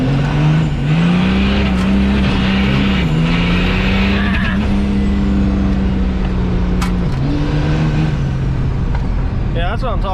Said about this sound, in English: So spool her up.